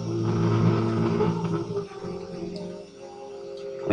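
A homebrew AM radio receiver tuned to a very weak station gives a continuous rough hiss and static, with faint, wavering tones and murmurs buried in the noise throughout.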